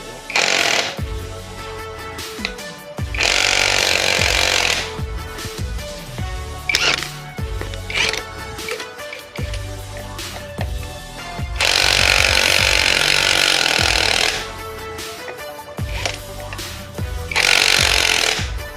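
Impact wrench tightening the CVT pulley nut on a SIP 125 scooter, loud rattling hammering bursts of a few seconds each, separated by quieter mechanical clatter and handling noise.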